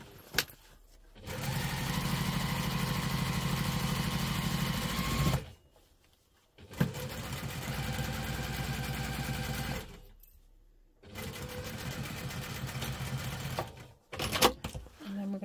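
A sewing machine runs in three steady bursts, stitching and back stitching seams on a double compartment crossbody bag, with a loud mechanical whir broken by short pauses and a brief clatter at the end.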